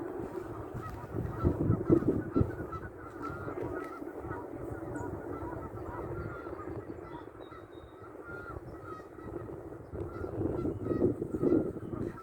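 Geese honk repeatedly among other waterbirds at a lakeside, the calls loudest near the start and again toward the end over steady outdoor background with faint voices.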